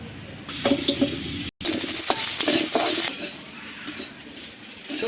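Potatoes frying in a little oil in a pan: a close, hissing sizzle with a few metallic clinks from the utensil, briefly interrupted by a short gap.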